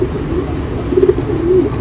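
Pigeons kept as show birds give low, throaty coos, a few soft rolling calls rising close to the microphone over a steady background murmur.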